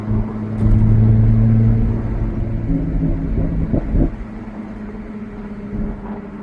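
Jaguar F-Type V6 with 340 hp and a stainless steel exhaust, heard as a loud, steady engine drone that swells over the first two seconds and then settles into a lower idle rumble with a few sharper blips.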